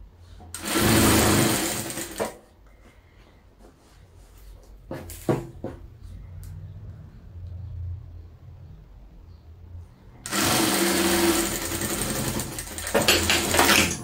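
A sewing machine stitches a double-sided patchwork bag in two loud runs near the start and end, with a quiet stretch of handling and small clicks between them.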